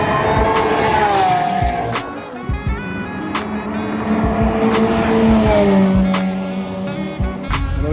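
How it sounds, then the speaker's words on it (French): Race cars at the Spa-Francorchamps circuit, Fun Cup event, roar steadily past with revving engines, shifting pitch and tire squeal, loud and continuous throughout. "il y a un beau défilé de pas mal de belles voitures"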